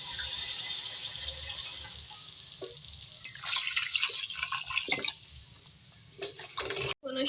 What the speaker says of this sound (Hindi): इसमें पानी ऐड करूँगी मैं 2 गिलास और इसको कुक करने के लिए रख देंगे।